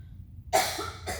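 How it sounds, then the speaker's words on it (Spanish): A single close, harsh cough bursts out after a moment of quiet, followed by a softer second cough. "disculpe esta tosecita mía"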